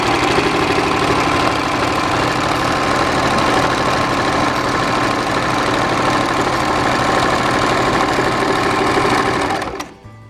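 An Usha Janome household sewing machine runs continuously up close, stitching a zigzag pattern with a fast, even mechanical chatter that stops abruptly at the end.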